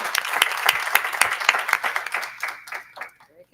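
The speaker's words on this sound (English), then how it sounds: "Let's give her a round of applause again." A round of applause from the audience at a university board of supervisors meeting, a burst of dense hand clapping that gradually thins out and fades over a few seconds.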